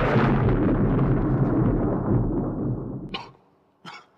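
A heavy thunderclap booms and rumbles loudly, rolling off over about three seconds before dying away, followed by two short faint sounds.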